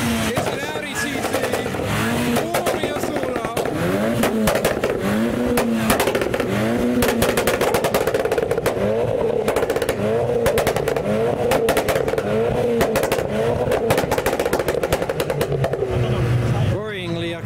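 A car engine at a night car meet revs hard in rhythmic repeated bursts to shoot exhaust flames, loud and close, with people talking over it throughout.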